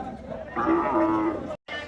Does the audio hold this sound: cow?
yes